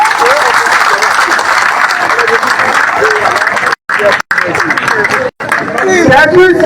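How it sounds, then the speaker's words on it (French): Crowd at a political rally in Côte d'Ivoire applauding loudly and densely, with voices mixed into the clapping and a few abrupt brief dropouts near the end. "Applaudissez-vous."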